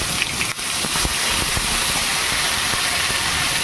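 Ginger hits hot oil with fenugreek seeds for tempering, giving a loud, steady hissing sizzle with a few faint crackles and a clank near the start.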